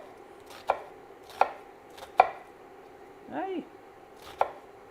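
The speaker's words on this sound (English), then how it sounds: "we're just going to roughly chop this onion." A knife roughly chops an onion on a board: a handful of crisp, close, evenly spaced chops, with a brief spoken exclamation between them.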